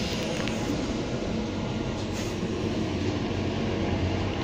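Tyne and Wear Metrocars 4076 and 4079, one with a rusted side, departing Shiremoor toward South Shields, giving a continuous loud rolling rumble and rail noise close by, without talk.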